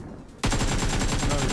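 Sudden automatic gunfire in a video game starts after a short quiet moment and runs as a rapid, evenly spaced stream of loud, close shots to the end.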